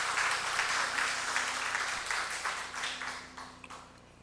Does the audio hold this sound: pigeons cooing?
no